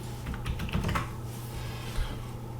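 Plastic keys tapped on a Roland Edirol PCR1 MIDI keyboard, a quick cluster of soft clicks early on and a lone tap near the end, quiet and close with no voices.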